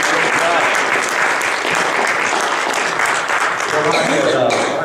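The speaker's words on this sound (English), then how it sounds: "How about a round of applause for our last director," Reunion audience applauding director Bob Ferguson at a business meeting, a loud, sustained roar of many hands clapping with crowd voices mixed in.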